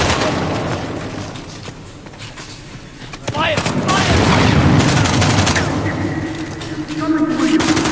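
Enemy gunfire and booming blasts in the game Uncharted The Lost Legacy, dense and loud, swelling into a sustained barrage midway, with a person talking over the shooting.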